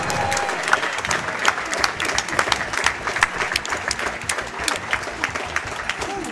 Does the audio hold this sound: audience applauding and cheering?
yes